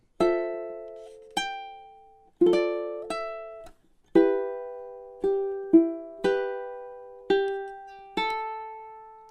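Ukulele playing measures 10 and 11 of a song, with about a dozen clear plucked notes and chords ringing out one after another in a slow, even rhythm, each decaying before the next, solo and close with no voices.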